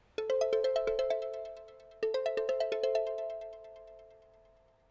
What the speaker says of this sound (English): So this is the phone call.